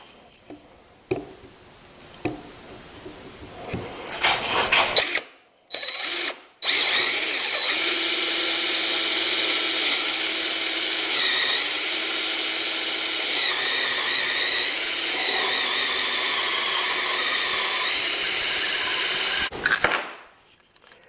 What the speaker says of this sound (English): the drill can catch and come whipping around